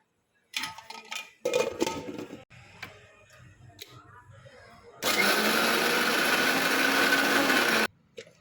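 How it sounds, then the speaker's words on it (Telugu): A few clattering handling noises, then a loud mixer grinder grinding corn batter whirs for about three seconds before cutting off abruptly. "ఇప్పుడు మిక్సీ పట్టుకుందాం"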